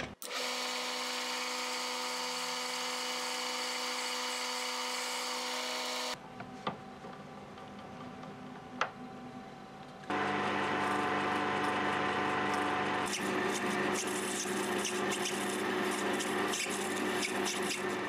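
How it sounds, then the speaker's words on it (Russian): A lathe bit whirs steadily into brass, drilling a 4 mm hole, pausing briefly in the middle, then resuming with a harsher, louder grinding tone. "внутри до конца сверлю отверстие диаметром 4 мм"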